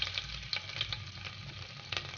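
Garlic frying in hot oil with spluttering mustard seeds, a continuous close sizzle dotted with irregular sharp pops and crackles.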